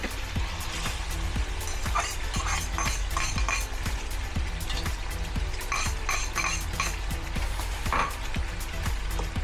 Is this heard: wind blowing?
no